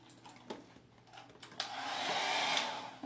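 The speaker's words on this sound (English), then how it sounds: "It's basically like a straightener, but it's like a blow dryer with a brush." A handheld hot air brush blow dryer whooshes on after a few soft handling sounds, building to a steady, fairly loud airy roar close by.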